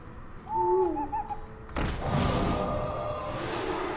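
Owl hoots from the Hearthstone card game, a couple of short wavering hoots followed by a sudden whooshing burst of game effects, fairly quiet and with no talk.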